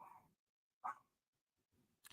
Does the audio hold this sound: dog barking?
yes